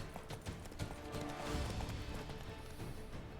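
Horse hooves galloping in the game Witcher 3, a rapid, continuous clip-clop at close range, moderately loud and alone.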